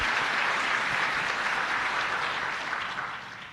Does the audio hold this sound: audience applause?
yes